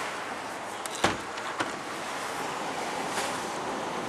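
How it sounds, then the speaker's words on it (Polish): Strong wind roars steadily as a broad rushing blast, with a couple of sharp knocks or bumps early on and no talking. "Jaki wiatr."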